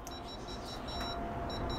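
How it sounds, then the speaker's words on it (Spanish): A pressure cooker with a faulty high-pressure sensor sounds its error alarm: a short series of thin, high electronic beeps in quick rhythm over a low background hum. "blinquean todos los LEDs más una alarma"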